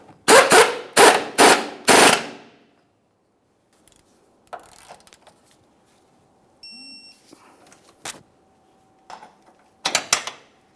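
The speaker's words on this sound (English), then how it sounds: "Got our 19 millimeter up along the top there on the nut." A torque wrench with a 19 mm socket tightens the lower control arm bolt of a 2008-2017 Mitsubishi Lancer: four loud, rapid ratcheting bursts up close, then quiet, scattered metallic clicks and small clatters, and a final short ratchet burst.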